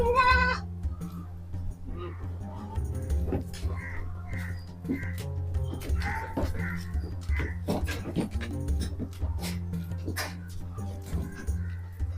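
On a farm keeping some thirty goats, several animals bleat in short bursts scattered over a steady low rumble, with crows cawing and other animal noises mixed in.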